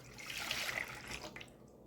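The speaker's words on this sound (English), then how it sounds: "Now to a medium-sized saucepan, we're going to be adding 2 cups of milk." Two cups of milk poured into a medium-sized saucepan for a fruit tart filling, a steady, close liquid stream for about two seconds that thins slightly at the end.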